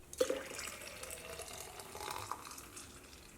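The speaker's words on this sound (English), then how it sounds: "we're going to go ahead and pour the milk back into the mason jar" Milk pouring steadily into a mason jar, a soft gurgling splash that starts with a brief clink and continues quietly.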